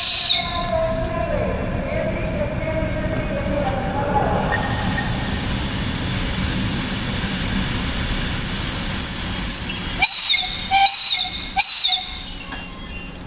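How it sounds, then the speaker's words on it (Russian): A short four-car electric commuter train pulls into a station on the line to Buy, a steady rumble of wheels on rails with rising metallic squeals, then sharp bursts of brake hiss and clanks near the end. "Вон электричка прибывает."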